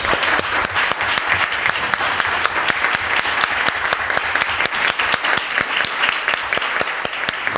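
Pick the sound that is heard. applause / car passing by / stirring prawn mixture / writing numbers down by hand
applause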